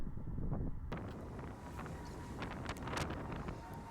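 Steady wind gusting across an open outdoor spot near a boat, a constant rushing roar buffeting the microphone with brief rattles and flutters mixed in.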